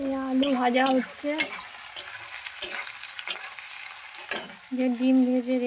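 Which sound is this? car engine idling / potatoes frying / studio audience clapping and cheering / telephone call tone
potatoes frying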